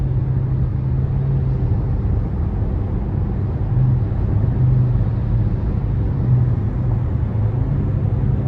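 A 2019 Toyota Corolla LE with a CVT cruising on the road, heard from inside as a steady low engine and road rumble with faint tire hiss, constant and moderately loud with no talk.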